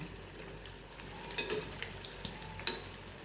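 Flour bhaji bubbling in hot oil as they turn light golden brown, a steady close sizzle with occasional stirring clinks and scrapes.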